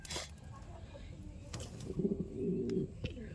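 Pigeons at a home loft keeping about 200 birds, including Black Pomeranian and Magpie breeds, give soft low coos in the second half, faint under rustling and scattered background noise.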